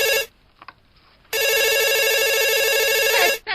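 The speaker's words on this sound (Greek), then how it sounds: "Κερεκή, η Βέτα θα είναι το τηλέφωνο." A telephone rings in two bursts, a short ring cut off, then after a pause a longer, loud electronic ring close by.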